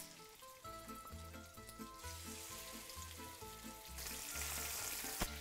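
Chicken searing in hot, abundant extra virgin olive oil, a continuous sizzle with rhythmic low stirring or scraping thuds, growing a little louder toward the end.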